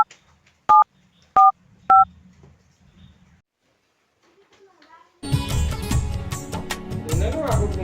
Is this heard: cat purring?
no